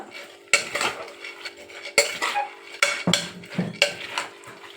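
A metal spoon stirs washed green gram in a cooking pan, giving several loud scraping strokes against the pan with soft rattling in between.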